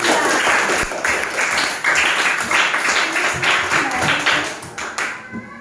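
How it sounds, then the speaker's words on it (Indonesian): A classroom of fifth-grade pupils claps for a group, a loud, dense burst of applause that carries on steadily and fades slightly at the end. "Kasih tepuk tangan untuk kelompok 2."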